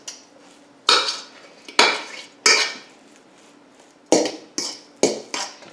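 Egg and a pinch of salt stirred together with a utensil in a bowl, giving a series of sharp clinks and scrapes that come at uneven intervals, each ringing off briefly, close and alone.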